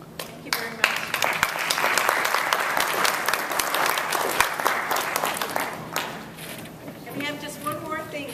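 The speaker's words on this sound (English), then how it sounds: "And a round of applause would be nice." Audience at an awards banquet gives a loud, sustained round of applause lasting several seconds, dense clapping that tapers off near the end as a voice begins speaking.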